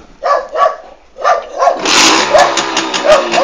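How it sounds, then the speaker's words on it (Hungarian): A small motor engine fires up easily after the ignition switch is turned on, then settles into a loud, steady, deep rumbling idle close by, after a few short bursts at the start. "Amit halljátok, pöcre indul, és nem füstöl a kipufogója, és nagyon szép dörmögős hangja van."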